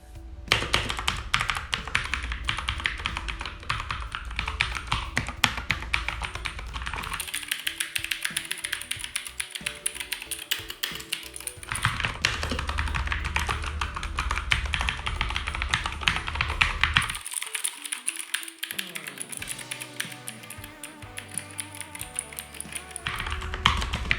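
Fast, continuous typing on a lubed Keychron K2 version 2 hot-swap mechanical keyboard, the keys clacking with a muted, smooth thock, close and steady throughout.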